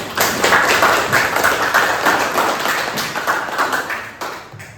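Classmates clapping for a student in a school lesson, a lively burst of many hands that peaks early, then thins and tapers off with a few scattered final claps.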